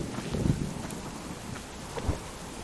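Thunderstorm in a video game: low rumbling thunder rolls with a steady wash of rain on surfaces, a fuller boom near the start and another near the end, with no talking.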